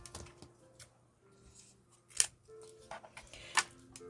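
Scissors snip through paper while a journal is being made, a few faint, sharp cutting clicks scattered among quiet rustles in a calm room.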